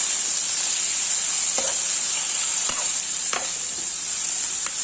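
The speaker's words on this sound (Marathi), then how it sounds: "टोमॅटो घालून घेऊया आणि हे सुद्धा आपण परतून घेऊया" Tomatoes sautéing in hot oil for a raw jackfruit curry: a loud, steady, bright frying hiss with a few faint stirring clicks, close and continuous without speech.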